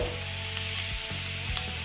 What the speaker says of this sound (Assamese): মিক্স কৰি থোৱা নাৰিকল আৰু চেনিখিনি কেৰাহীটো গৰম হোৱাৰ পিছত দি দিব।